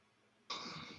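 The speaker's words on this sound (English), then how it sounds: "Sorry, I got a cough." A single short, harsh cough up close, following a moment of near silence.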